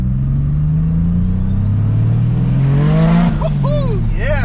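A 1992 Dodge Stealth with a single XR10569S turbo pulls hard uphill; a loud, close engine note climbs steadily in pitch as it accelerates, heard from inside the car, with excited shouting breaking in near the end.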